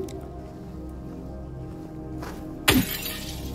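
A single sudden shatter of breaking glass in a video game, loud and close, cutting through steady game ambience near the end, followed by a short tinkling tail.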